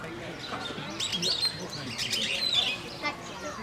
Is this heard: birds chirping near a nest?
yes